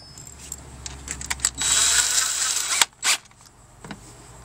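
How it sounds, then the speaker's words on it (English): Stainless steel Phillips head screws, 3/4 inch, being driven into fiberglass during a boat ventilation install, giving a sustained whirring drive of about a second followed by a few short clicks and bursts. "It's 3/4 inch stainless steel Phillips head screws."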